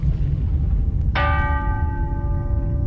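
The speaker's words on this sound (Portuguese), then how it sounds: "os sinos de todas as igrejas começam a tocar a rebate, por si só" A single church bell strikes loudly and rings out with a long, shimmering decay over a low rumbling background, in Lisbon after the 1755 earthquake.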